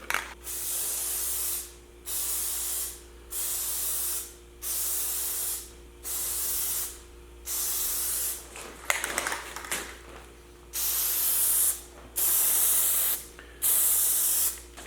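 Performix Plasti Dip aerosol in Smoke color sprays in about eight steady, evenly spaced hissing bursts of roughly one second each, separated by short pauses, with a brief clatter of handling partway through.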